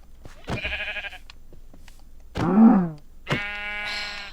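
Sheep bleat three times in quick succession in Minecraft, short wavering calls with clear gaps between them, close and fairly loud.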